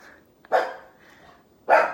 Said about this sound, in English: He just started barking like the past 2 days.